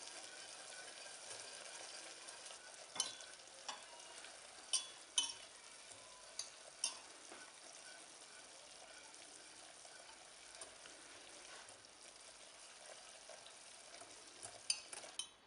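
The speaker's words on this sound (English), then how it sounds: "just melt that in and continuously stir it while that happens" Butter melting into caramel in a pan while being stirred continuously, giving a faint, steady sizzle with occasional light scrapes and clinks of the spoon.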